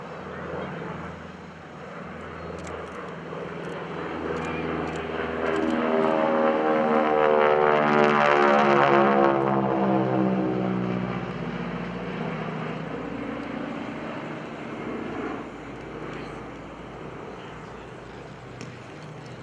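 A North American T-6 Texan (AT-6) with a 1,200 horsepower Pratt & Whitney radial engine makes an airshow flyby, its propeller roar swelling to a loud peak mid-pass and then fading, with the droning harmonics sliding down in pitch.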